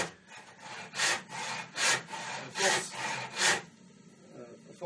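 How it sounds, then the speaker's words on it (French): A hand saw that needs little force cuts through wood for a carved spoon, making about five loud, rhythmic rasping strokes, each swelling and fading, with no voices. "C'est une scie qui ne demande pas beaucoup de force pour travailler."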